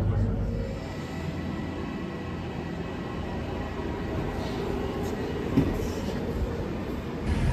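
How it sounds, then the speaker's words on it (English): A London Underground train rumbles steadily with a low, continuous roar throughout, a faint squeal near the end; a voice speaks briefly under the noise. "This is the train to Gospel Oak."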